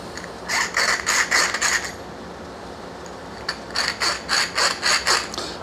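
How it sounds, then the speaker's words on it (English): A deburring tool scrapes the cut ends of copper HVAC lineset fittings in two bursts of rhythmic clicking, ratchet-like strokes, close and fairly loud, with a short quiet gap between them and no talking. "I'm going to go ahead and deburr these fittings."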